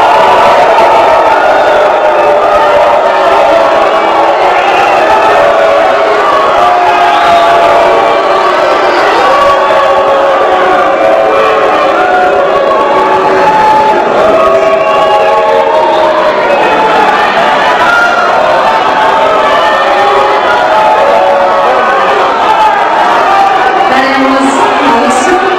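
A large crowd at a political gathering boos a politician during his speech, a continuous loud roar of jeers and shouts that never lets up.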